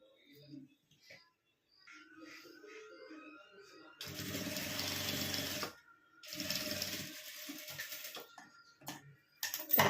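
A sewing machine stitches a cloth pouch styled as a traditional grandmother's batwa, running in two steady whirring bursts between pauses, close and fairly loud, with someone speaking before and around the stitching.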